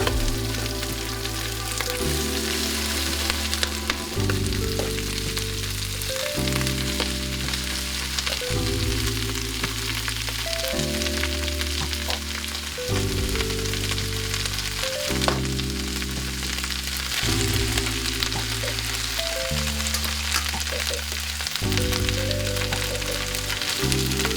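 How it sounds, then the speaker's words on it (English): Wet collard greens and savoy cabbage sizzle loudly in a hot pan, a dense crackling hiss that swells and shifts in repeated waves as the leaves hit the heat and get tossed, with no voices. "Hot, back away because we're going to put some wet greens in."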